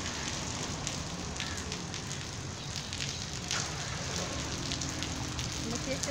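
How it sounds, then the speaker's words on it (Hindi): Steady rain falling outdoors, a continuous dense hiss with scattered drop patter, fairly loud and unbroken throughout, with no clear talk over it. "अब बारिश शुरू हो गई,"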